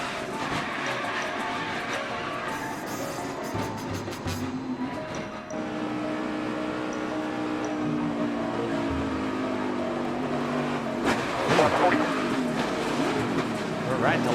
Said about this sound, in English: Right in the last second, you hear Austin Dillon getting the throttle, hoping he could squeeze by.